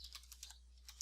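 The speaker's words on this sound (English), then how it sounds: "so I'm just going to type output down here" Quick, light keystrokes on a computer keyboard tap out a short word in an irregular patter, faint and close, over a low steady hum.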